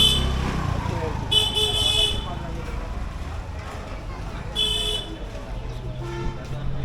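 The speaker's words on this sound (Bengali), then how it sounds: "আর এই যে আমি স্কুটার এখন হরেন বাজাইতে বাজাইতে এলাকায় আয়া পড়ল" A TVS Wego 110 scooter horn sounds in two short bursts of high, tinny beeps amid road and engine noise, while people talk over it.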